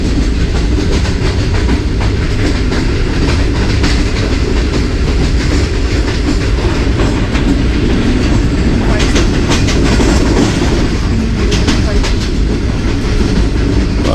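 A loud, steady train roar with rhythmic clickety-clack of wheels on rails, heard from inside an air-conditioned parlour carriage moving at about 55 km/h near Kala Shah Kaku station, continuous throughout.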